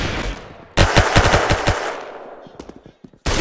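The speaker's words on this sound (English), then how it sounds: "This gun really sucks." Rapid bursts of automatic gunfire in the video game Arsenal, sharp close rattling shots in clusters with short pauses between bursts.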